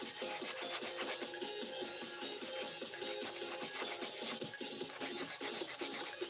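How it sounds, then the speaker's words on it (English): Steady rasping strokes of sanding on a carved object, a rapid, repetitive scratchy rubbing that continues without pause, faint and close, with no talking. "Been here with JoJo, streaming it up, carving it up, sanding it up"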